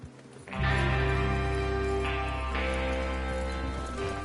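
Steady hoofbeats of horses trotting in Red Dead Redemption 2, loud and close, carried over a sustained musical drone with no talking.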